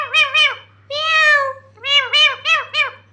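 A pet talking parrot imitates a cat's meow, giving several close, loud mewing calls in quick bursts with a steady low hum underneath.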